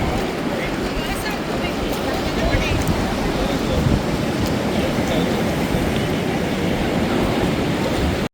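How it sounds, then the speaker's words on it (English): Ocean waves roll onto the shore of Siargao Island in the Philippines as the tide comes in, making a loud, continuous, rushing surf wash with no break. "the waves are rolling in, the tide's coming in"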